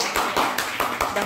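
Family members on a Mahabaleshwar trip clap for Santosh, a short run of about six distinct, fairly close hand claps in an uneven rhythm, with faint talk around them.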